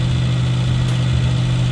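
A Suzuki Samurai engine idles steadily at close range, a low, even rumble with a smooth, unchanging beat and no voices.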